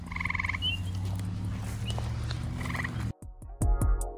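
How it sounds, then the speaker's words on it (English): Eastern gray tree frogs calling in the wild, steady loud trilling croaks running throughout, joined near the end by a closer, louder burst of calls. "the other gray tree frogs out in the wild are calling"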